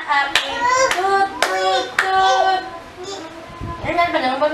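Family members clap hands at a home birthday celebration, sharp bright claps coming in a few bursts among cheerful voices, with adults and someone talking and singing over them.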